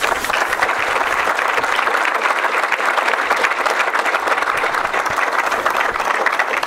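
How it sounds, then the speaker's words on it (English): A sustained round of applause fills a hall at a high school athletic hall of fame induction ceremony, dense and even clapping from a sizable crowd with no break. "So I think we should have a round of applause one more time for them."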